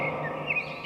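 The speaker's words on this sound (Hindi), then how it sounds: "रात की रहस्यमयी चुप्पी अब चिड़ियों की मीठी चहचहाहट से भर चुकी थी।" Small birds chirp in a brief burst of high, thin calls against a soft background hush on a sunny morning by a blue lake.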